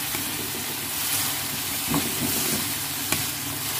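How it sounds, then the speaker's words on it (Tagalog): Onions sautéed with soy sauce in a pan give a steady, close hiss of frying, with a few faint stirring clicks over the sizzle. "gisa-gisa lang hanggang kumapit na yung toyo sa ating sibuyas"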